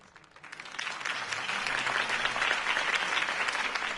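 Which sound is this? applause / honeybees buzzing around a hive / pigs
applause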